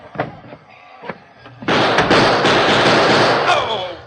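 Radio drama gunfire sound effect from a 1945 Lone Ranger episode: a few faint thuds and speech fragments, then a loud burst of gunshots ringing into a sustained noisy rumble.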